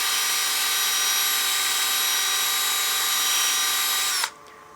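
A turning tool works the exterior and rim of a wooden wine glass on a lathe, a loud continuous high whirring hiss that cuts off abruptly near the end, leaving a quiet low hum.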